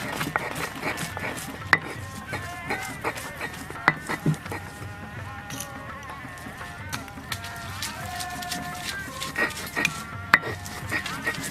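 Onions sliced into pieces with a knife in a home kitchen: faint, irregular knife taps and clicks against a background hum and scattered kitchen clatter.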